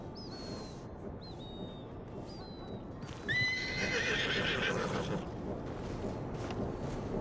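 A horse whinnies several times in the video game Red Dead Redemption 2, then a louder neigh follows, with steady clip-clopping hooves and ambient noise throughout.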